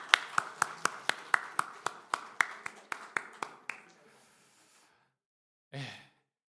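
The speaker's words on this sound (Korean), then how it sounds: "격려하며 축하하며 힘주는 박수로 함께 격려해 주시면 감사하겠습니다" A church congregation applauds together in a steady, even rhythm of sharp claps that dies away after a few seconds, followed by a brief voice.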